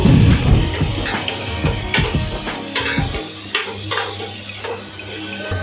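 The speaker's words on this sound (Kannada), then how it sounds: "ಈಗ ಟೊಮೊಟೊನೂ ಚೆನ್ನಾಗಿ ಹುರ್ಕೋಬೇಕು." Tomatoes frying in a pan while making a Bangada fish curry, with a steady sizzle broken by scraping stirs and clinks of a spatula against the pan, up close.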